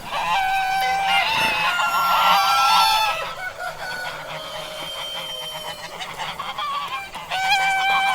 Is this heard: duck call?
yes